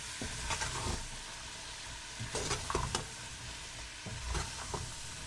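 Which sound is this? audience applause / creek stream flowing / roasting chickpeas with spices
roasting chickpeas with spices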